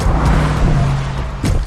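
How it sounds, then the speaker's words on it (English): Cars rush past in a video game, a loud dense engine roar with a fresh pass swelling at the end. "God, so many"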